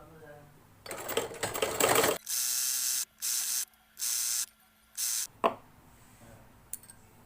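A sewing machine joins fabric strips for a small table runner in several separate bursts of loud, close whirring, each starting and stopping abruptly, after a stretch of rustling handling noise.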